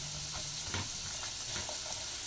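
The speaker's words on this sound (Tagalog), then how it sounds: "ito na yung buto ng ating langka. Ayan, piniprito na natin" Jackfruit seeds with the outer skin removed frying in oil, a steady broadband sizzle with faint crackles and a few soft stirring knocks, close and even throughout.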